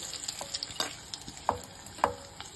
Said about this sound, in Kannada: ಒಗ್ಗರಣೆಗೆ ಈರುಳ್ಳಿ ನೀವು ಇಷ್ಟೇ ಬೇಯಿಸ್ಕೊಳ್ಳಿ